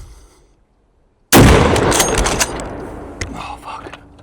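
An Auto Ordnance TAO 50 .50 caliber rifle fires one sudden, very loud shot outdoors after near silence, followed by a long rolling echo that slowly fades.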